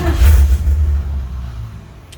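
A 1967 Mercury Cougar XR7 engine is cranked by a push-button solenoid, giving a brief loud low rumble at the start that fades into a softer, uneven idle within about two seconds.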